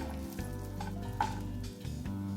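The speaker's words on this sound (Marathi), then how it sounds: "ह्यामध्ये खजूर पण थोडं काय करून घेते परतून घेते थोडं तुपामध्ये दोन तीन मिनिट" Dates sauté briefly in ghee in a pan for dry-fruit laddoos, producing a soft sizzle with faint stirring, quiet and close over a couple of seconds.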